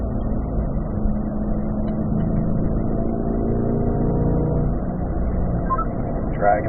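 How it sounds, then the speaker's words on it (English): A car pulls hard on a race track in fourth gear, its engine droning steadily and loudly throughout, a continuous mid-pitched roar with no gaps. "Fourth gear, rolling into throttle."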